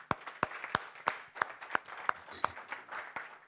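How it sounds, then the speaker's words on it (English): Scattered hand claps from a small audience at an economics conference on monetary policy, sparse and irregular rather than full applause, moderately close. "let's offer a round of applause to Martin."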